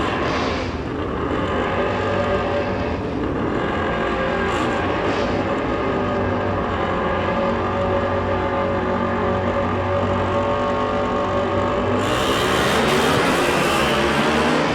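Race cars roaring off the start on a freshly sprayed and dragged dirt track at the Mancup World Finals, a loud continuous engine drone with rising pitch sweeps and a sharper burst of high-end noise near the end.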